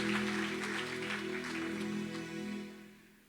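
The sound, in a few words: congregation applauding the praise and worship team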